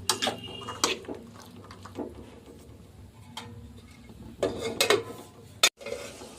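Green peas being stirred into masala in a pot, irregular metal spoon scrapes and clinks against the pot in short bursts with quiet gaps, close and without talk.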